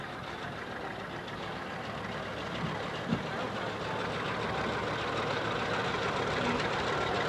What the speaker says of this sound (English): An 830 diesel John Deere.